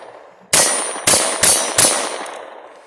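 Four sharp gunshots from a Ruger 57 handgun ring out in quick succession, each a loud, bright crack with a ringing tail, the last three fired closer together, with no talk.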